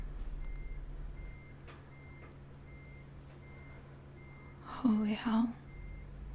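A truck's reversing alarm in Euro Truck Simulator 2 beeps steadily at an even rhythm under low engine hum, with a brief exclamation from a man partway through.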